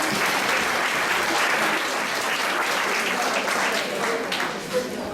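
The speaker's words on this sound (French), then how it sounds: "Encore quelques applaudissements." A school audience at a lycée prize ceremony keeps clapping in a dense, even wash of applause, loud and continuous throughout with no voices standing out.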